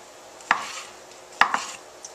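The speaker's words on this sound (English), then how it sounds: "chopping up the sausage here for the breakfast burritos" Sausage being chopped on a board in a home kitchen for breakfast burritos, heard as a few crisp, close knife strikes spaced about a second apart, with no talking.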